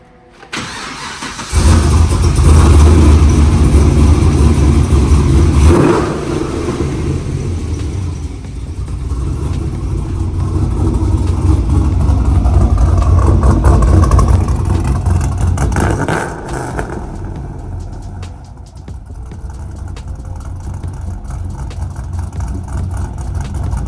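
A big LSX V8 car engine cranks and roars to life up close in a garage, revs hard, settles into a loud rumbling idle, then revs again with a deep exhaust growl.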